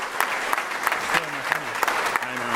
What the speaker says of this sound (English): why don't we just give them a good applause to everyone that participated in the open talk